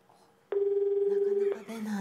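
Internal phone line being dialed to wake someone in a hotel room at night: a sharp steady dial tone lasts about a second, then a brief ringing burble follows, close and clear with a faint hum beneath.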